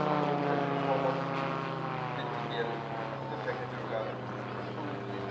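An ELA Eclipse gyrocopter flying at a daytime airshow gives a steady propeller and engine drone with a low, sustained hum, moderately loud and continuous throughout. Faint crowd sounds sit underneath.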